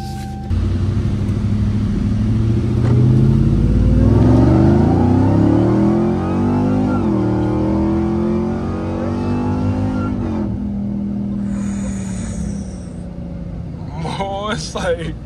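A Ram TRX pickup's exhaust roars and revs up and down over several seconds, loud and close, then settles to an idle with faint chirps at the end.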